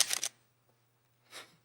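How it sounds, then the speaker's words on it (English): A camera shutter fires twice at a 1/160 shutter speed. Two short, close mechanical bursts are separated by about a second of near silence over a faint steady hum. "I'm going to take another picture of Ebo here."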